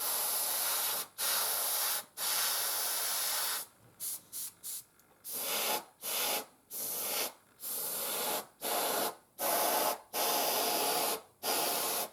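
Repeated bursts of aerosol spray paint hissing close up while painting a model Panzer IV tank, several short and long sprays separated by brief pauses, with a cluster of quick taps in the middle.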